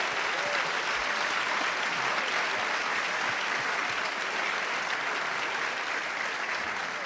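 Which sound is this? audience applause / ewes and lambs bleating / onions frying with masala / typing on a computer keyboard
audience applause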